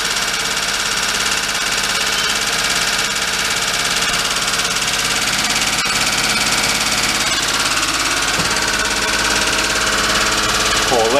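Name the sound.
Daihatsu mini truck engine idling while warming up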